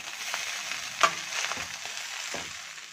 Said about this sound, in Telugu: నెమ్మదిగా కలుపుకోండి, ఎందుకంటే బాస్మతి రైస్ విరిగిపోయే ఛాన్స్ ఉంటుంది కదా.